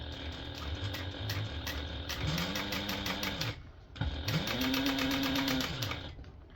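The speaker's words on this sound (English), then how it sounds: "I'm just going to top stitch this using an 1/8 inch seam allowance, and my stitch length is set to 5." A sewing machine topstitching the bottom panel of a tote bag with a long stitch length, running in a steady fast chatter close up, pausing briefly midway before starting again and then stopping.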